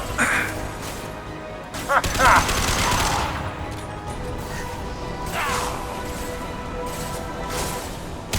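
Mass Effect 2 combat with impact shot gunfire: a sustained barrage of shots and crashing impacts across the whole stretch, with several sharper bursts standing out, under voices speaking at times.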